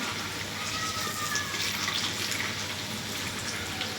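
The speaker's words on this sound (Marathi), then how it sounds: "हे वडे मी पलटी करून घेते बघा" Urad dal vadas deep-frying in hot oil in a kadhai on a gas stove after being flipped, giving a steady, close, continuous sizzle and bubbling hiss with no talk.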